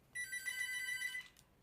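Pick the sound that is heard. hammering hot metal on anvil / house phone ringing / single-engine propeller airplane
house phone ringing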